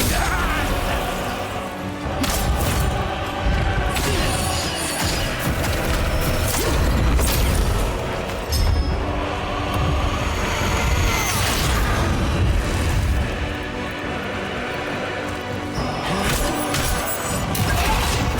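Dense, loud boss-fight chaos from the action game The First Berserker Khazan: a continuous run of explosions, heavy crashes, booms and metallic impacts with no pauses.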